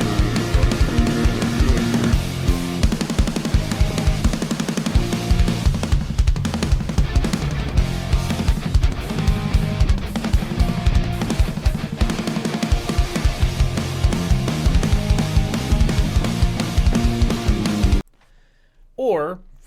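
A full-band rock song plays loud and dense with driving drums and steady instrumentation for about eighteen seconds, then cuts off abruptly into near silence with a brief faint sound at the end.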